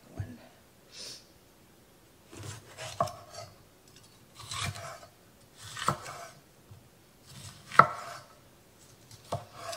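Knife chopping through bell pepper on a cutting board while preparing salsa for canning, with a series of irregular crunchy cuts separated by short pauses, close and clear.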